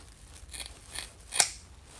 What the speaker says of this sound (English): We're gonna go ahead and cut this off.